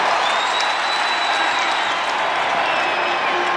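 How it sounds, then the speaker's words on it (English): Dense, loud crowd applause and cheering fill a large arena at a 1994 NCAA men's lacrosse game between Syracuse and Loyola, steady throughout with a commentator's voice faintly mixed in. "Crowd loves this, don't they?"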